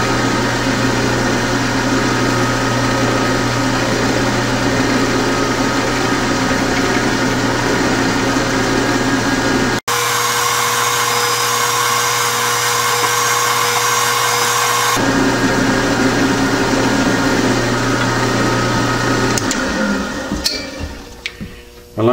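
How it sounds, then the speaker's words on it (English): Centre drill cutting into a 7/16 by 14 steel T-nut spinning on a metal lathe, a loud steady machine whine and hum with a change in tone midway before it winds down. "Just pop a centre drill in here."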